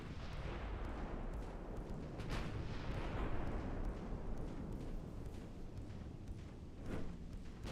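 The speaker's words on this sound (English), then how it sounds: "We're going to go ahead and turn out, get a full broadside released" Heavy naval guns boom in a full broadside from a warship in Ultimate Admiral Dreadnoughts, a dense rolling roar of overlapping blasts with sharp reports near the start and end.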